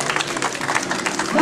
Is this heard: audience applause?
yes